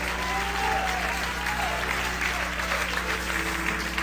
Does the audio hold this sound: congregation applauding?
yes